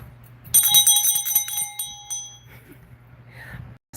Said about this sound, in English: the vibration of the bells, even when you ring it, afterwards you can still hear it